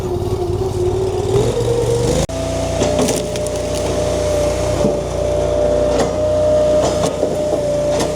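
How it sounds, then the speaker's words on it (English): A Wolfe Ridge 17VS-PB hydraulic log splitter with a 24-inch stroke, its engine loud and close as it revs up at about two seconds, then running steadily while logs crack and split with sharp wooden snaps. "let's rev her up and do some splitting"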